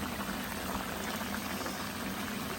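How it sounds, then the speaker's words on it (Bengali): Chitol fish kofta curry bubbles at a boil in a pan, a soft continuous simmering burble heard close and fairly quiet with no talk. "এই যে বলক এসে করছে"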